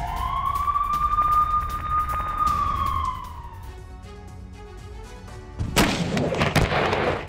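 Artillery shelling in the Petrovsky district of Donetsk, with 155 mm shells: a loud, sustained whistling tone bends and fades over the first few seconds, then a sudden broadband burst erupts near the end, with no talking.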